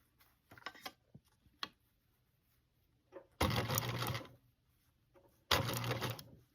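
Sewing machine stitching small curves on a Le Cirque quilt, two short close bursts of rapid stitching of roughly two seconds and one second, preceded by soft clicks and fabric handling in a quiet room.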